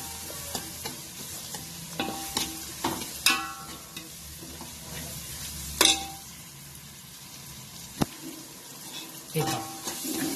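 Chopped garlic sizzles in hot oil over a high flame for an akkha masoor dish, with a spoon stirring through it and sharp scraping clicks and knocks against the pan rising above a steady close-up hiss.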